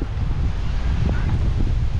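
Gusty squall wind on a boat roars over the microphone in a continuous low rumble, with faint rustling and brief soft sounds in the background.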